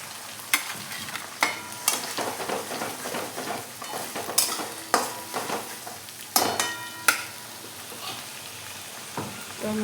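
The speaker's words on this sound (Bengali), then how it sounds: "এবার টমেটো কুচি দিয়ে দেবো।" Chopped tomato sizzles in a pan with mustard paste while a utensil stirs and scrapes against the metal in repeated sharp strokes, all close and clear.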